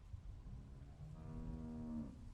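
A single drawn-out cow moo in The Walking Dead video game, a low groaning call that rises and holds for about a second, heard alone over a faint background.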